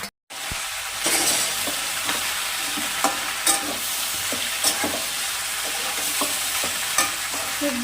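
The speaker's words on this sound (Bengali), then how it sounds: "এবার ভালো করে সবজিগুলো ভেজে নেব।" Chopped vegetables with spring onion and tomato fry in a pan for a tengra fish dish, a steady close sizzle broken by repeated scraping and clinking stirs, after a short silent gap at the start.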